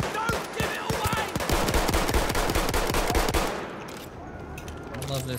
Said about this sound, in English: I love this gun, it shoots so much